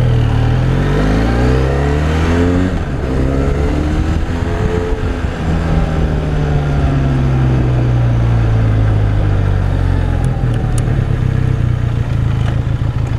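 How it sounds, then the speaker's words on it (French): Benelli Leoncino motorcycle engine revving through a small exhaust, loud and close, with rising and falling throttle sweeps over a steady idle rumble, no talking. "Il a vraiment un chouette son, la Leoncino, je trouve. Ce petit pot d'échappement est vraiment top."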